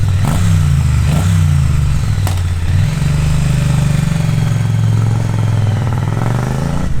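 Triumph T100 or T120 parallel-twin motorcycle cruising around town, a steady loud engine drone close by, with a blip of revs early on before settling into a smooth, even road-going hum.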